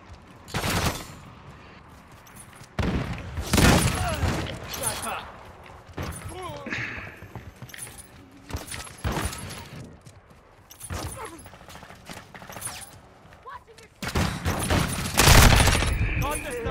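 Icarus LMG fire in Call of Duty: Modern Warfare II on the Shipment map, loud sustained automatic bursts repeating in several volleys with chaotic battle noise, interspersed with players talking.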